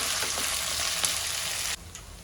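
Sliced onions and curry leaves frying and being stirred in a pan for kanda poha, a loud, dense close sizzle that holds steady, then drops sharply in intensity near the end, with no speech.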